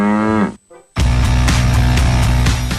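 Cow on a farm in Lampung, Indonesia, giving one loud, close moo that ends abruptly, followed after a short gap by a burst of rhythmic, pulsing noise.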